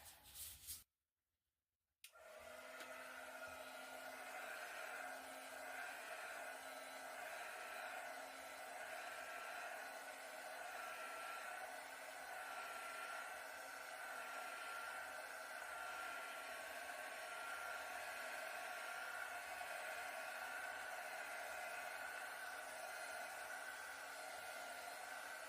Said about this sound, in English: So I'm just going to hit this quick with a heat gun.